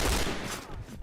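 Rapid video game gunfire rattles in a loud, continuous burst of overlapping shots during an internet-café match, with no pause across the short stretch.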